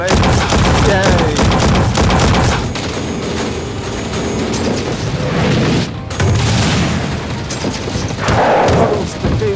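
Missile launches and explosions in the PS5 VR arcade shooter Gungrave, heavy booming bursts with mechanical clatter coming in loud waves over several seconds.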